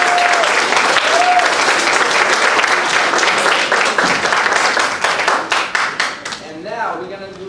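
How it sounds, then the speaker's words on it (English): A recital audience at a spring children's music program gives loud, full applause, many hands clapping together before tapering off, with a voice and faint whoops near the end. "So you can give a clap one more time."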